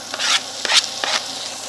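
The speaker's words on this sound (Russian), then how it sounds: "Жарим все остальное." Seafood pasta ingredients fry in a pan while being stirred, giving three quick scraping, sizzling strokes close to the microphone over a soft background hiss.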